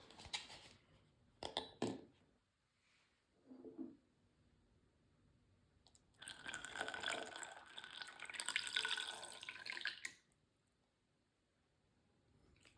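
Water poured from a pitcher into a vase during a preschool science activity, a faint splash and trickle lasting several seconds after a few soft knocks and clinks, quiet and close.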